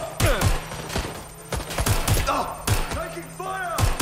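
Gunfire crackles in Watch Dogs Legion as a string of sharp, close shots spaced unevenly over a few seconds, with a voice calling out between the shots.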